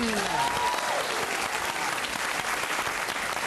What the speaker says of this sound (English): And a round of applause for Heath Franklin.